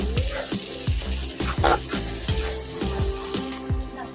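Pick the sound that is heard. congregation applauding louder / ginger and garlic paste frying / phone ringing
ginger and garlic paste frying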